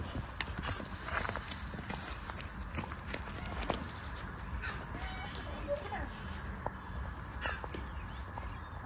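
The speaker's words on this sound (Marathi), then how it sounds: "आमचा राजा बैल आलेला आहे बाहेर" A bull led out of its village shed for washing, hooves clopping on the ground in an irregular walking rhythm, with roosters and crickets in the outdoor background.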